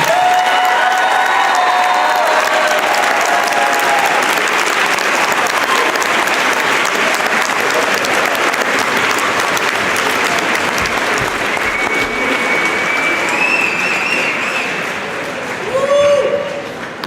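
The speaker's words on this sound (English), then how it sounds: "Let's give the class of 2026 a round of applause." A packed audience at an 8th grade promotion ceremony applauds the graduating class, a loud, continuous roar of clapping with some cheering and whistles rising near the end.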